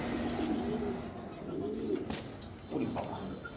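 Pet pigeons, young birds with pomegranate-coloured eyes, coo close by in a low, throaty series of repeated rolling calls, with a faint voice now and then in the background.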